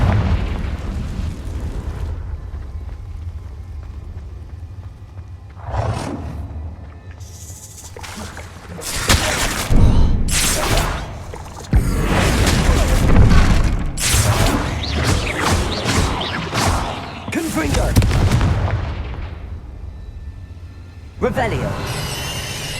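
Repeated Confringo fire-spell blasts in Hogwarts Legacy, several loud booming bursts spaced across the stretch amid rumbling combat noise, with a voice speaking at points.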